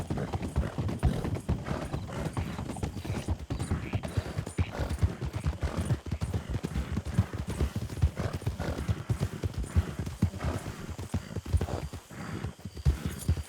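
Horse galloping in the western video game RedM, a steady rapid clip-clop of hooves running continuously and close, with faint mechanical rattle beneath.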